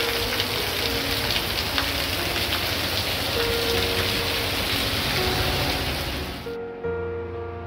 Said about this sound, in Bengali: পরদিন সকালটা শুরু হলোই অবিশ্রান্ত বৃষ্টি দিয়ে।